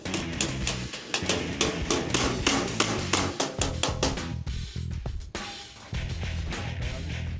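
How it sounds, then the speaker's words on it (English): Rapid, loud metallic hammer blows on a dolly ring out in a fast irregular rhythm as a metal flange is shaped on a drag car transmission mount, with brief pauses between bursts, close by. "A hammer and dolly are all that's needed to get the flange finished up."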